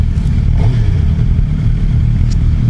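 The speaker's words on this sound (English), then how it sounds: "I just like the sound of that inline four." A 2015 Suzuki GSX-R750 inline-four sport bike runs with a steady, loud engine drone and slight rev swells, heard up close throughout with no talking.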